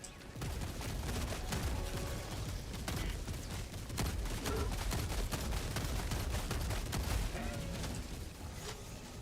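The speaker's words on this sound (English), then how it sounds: "Firing orbital barrage, clear the area." Orbital barrage strikes in the video game Helldivers 2: a steady, rapid stream of booming impacts and crackling blasts, continuous and fairly distant-sounding at low overall volume.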